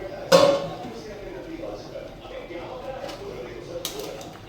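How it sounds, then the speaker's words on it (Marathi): A lid is set onto a cooking pot in a home kitchen: one sharp metallic clink with a brief ring near the start, then a quiet room hum and a faint later clatter. "आता ह्याला पण ठेवते झाकून."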